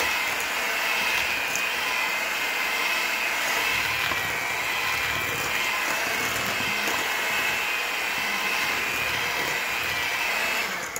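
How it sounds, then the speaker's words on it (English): An electric mixer whirs steadily and loudly through chocolate chip cookie dough in a home kitchen, a continuous motor drone without pauses or talk. "Mix this together."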